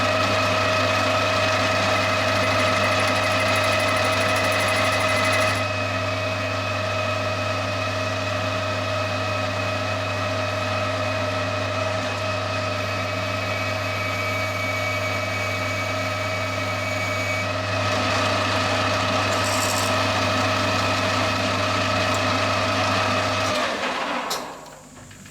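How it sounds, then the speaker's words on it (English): A small boring bar cuts metal stock on a lathe, boring a hole toward 3/8 inch. The motor hum and cutting noise run loud and steady for about twenty seconds, with a slight shift midway, then wind down at the end. "I'll run this little boring bar through and see if we can get that close to 3/8 of an inch"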